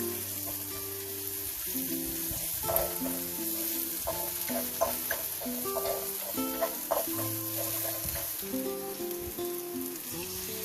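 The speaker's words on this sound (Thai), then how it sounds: "พอน้ำมันร้อนเราก็ใส่ รากผักชีกระเทียมพริกไทยที่เราเตรียมไว้นะคะ" Coriander root, garlic and pepper fry in hot oil, giving a continuous crackling sizzle with stirring throughout. A soft tonal melody runs underneath.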